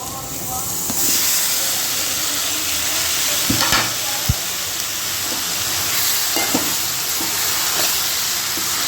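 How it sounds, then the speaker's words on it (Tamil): Onions and tomatoes sauté in a pan for a Tamil dried fish curry, a steady close hiss and sizzle broken by scattered clinks and scrapes of a spoon against the pan. "நல்லா வதங்கிருக்கு கொஞ்ச நேரம் இருந்தால் போதும் நல்லா வதங்கட்டும்"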